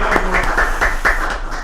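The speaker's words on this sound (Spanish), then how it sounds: "Vamos a aplaudir al doctor Antonio Rodríguez." Audience applause for a veterinarian being introduced at an event, a short burst of steady clapping from a crowd with no talk over it.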